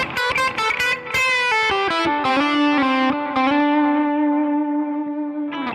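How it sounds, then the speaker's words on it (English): Distorted electric guitar lead with effects, a quick run of picked notes followed by a held note bent up and shaken with vibrato, ringing out with sustain and reverb, loud and alone. "So if you're doing, let's say you did a bend and a vibrato"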